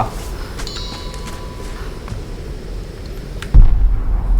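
Gunshots from a firearm in the Tomb Raider video game, heard as a single heavy low blast that cuts in near the end after a stretch of steady ambient game noise.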